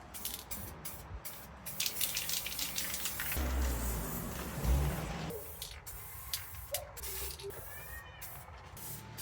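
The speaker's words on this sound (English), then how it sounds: "I apply 2 coats of black primer on the stand itself and also on the mounting points on the frame." Black primer hisses from a spray can onto a BMW R45 motorcycle stand in bursts of close, steady spraying with short pauses between passes.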